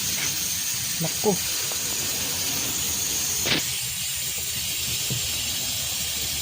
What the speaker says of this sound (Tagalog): Tire leak nga.